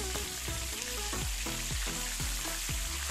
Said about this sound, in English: I'm placing them in shell side down and I'm reducing the heat a bit.